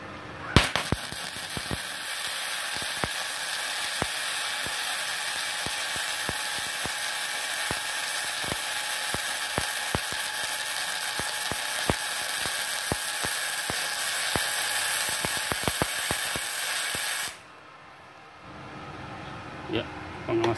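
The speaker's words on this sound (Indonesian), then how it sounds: "saya coba untuk mengelas kembali ya di posisi yang normal ya" A gasless flux-core MIG welder running 450 watts lays a bead on metal at normal position, giving a steady crackling sizzle with sharp pops for about seventeen seconds before the arc stops and only faint room noise remains.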